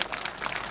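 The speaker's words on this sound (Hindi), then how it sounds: "एक बार सभी महानुभावों के लिए ताली बजाएं जोरदार" Brief burst of audience clapping at a statue unveiling ceremony for a martyr in rural Rajasthan, a crowd applauding together at moderate distance.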